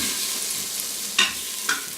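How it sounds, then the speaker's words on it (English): Sweet onions sizzle in an Instant Pot as they begin to brown, a steady near hiss punctuated by two brief louder scrapes of a stirring utensil. "so my onions are going. They're starting to get a little color on them"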